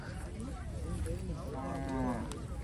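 Bullocks at a cattle market low nearby, a drawn-out moo rising over a busy background of crowd chatter and talking voices.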